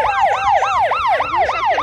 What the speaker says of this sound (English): look at the sirens on top